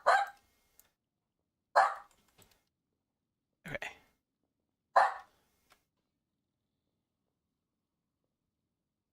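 A dog barks four times in separate, loud, sharp bursts about a second apart, with silence between them. A voice briefly says a word.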